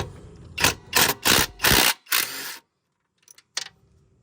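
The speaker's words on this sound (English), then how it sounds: "I am using a 13mm socket." A 13mm socket wrench ratchets engine bolts off a rear-wheel-drive self-propelled push lawn mower, giving five quick close bursts of clicking in a row, then a pause and a couple of faint clicks.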